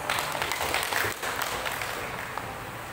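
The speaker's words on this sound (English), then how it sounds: "Let us give him a round of applause." Applause at a school moving-up ceremony, a crowd clapping in a steady, washed-out roar heard from a distance, moderately loud and continuous throughout without a clear ending.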